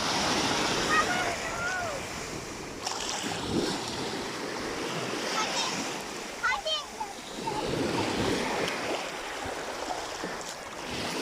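Sea waves breaking and washing on a beach, a steady wash of surf with wind buffeting the microphone, while a child and an adult talk over it.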